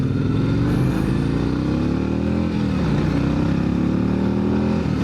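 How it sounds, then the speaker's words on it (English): A 2025 Harley-Davidson CVO Road Glide revs hard toward its limiter, a loud, close, sustained engine drone with rising and falling pitch. "This thing hits the rev limiter so quick."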